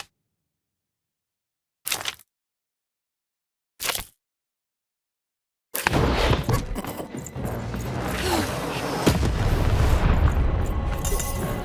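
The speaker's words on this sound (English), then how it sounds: "lead your playing piece onto the appropriate tile in order to fire your cannons" Two short, sharp bursts separated by silence, then a dense, continuous barrage of booming cannon blasts and crackling that swells and persists, in the video game Lost in Random.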